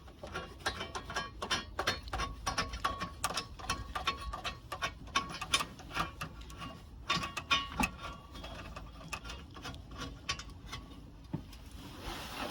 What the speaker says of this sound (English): Now we'll take the screws, just doing gently by hand.